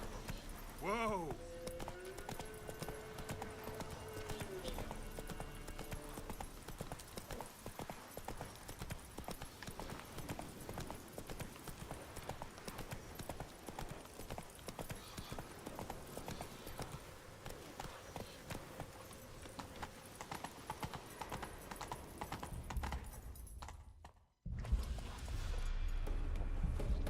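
Hoofbeats of a horse in a video game, trotting in a continuous, steady rhythm for a long stretch, opening with a neigh, under game sounds and some talk, before dropping out briefly near the end.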